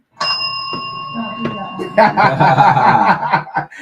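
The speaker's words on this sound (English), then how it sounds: "I'm going to ring the bell for you" A bell rung as a sound effect on a radio show, a bright sustained ding that rings and fades at the start before chuckling and talk take over.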